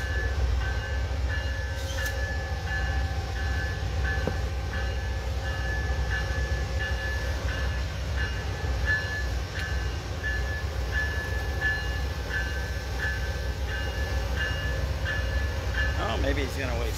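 A train rumbles steadily past at Fullerton Station, a continuous close roar of rail cars with faint metallic clicks and squeals running throughout.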